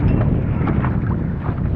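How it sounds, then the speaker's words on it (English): Strong wind blowing across open water during a small-boat sail in a SCAMP sailboat, a steady loud low rumble with gusty microphone buffeting throughout and no voices. "It is pretty windy out here."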